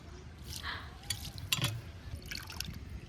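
Mutton pieces being rinsed in water in a home kitchen, with soft splashing and dripping sloshes coming in a few brief bursts over a low background hum.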